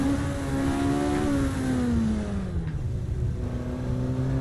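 TA Dragracer car engine in Assetto Corsa, a loud, close engine drone that rises, then falls away as revs drop and settles into a lower steady tone, with no talking.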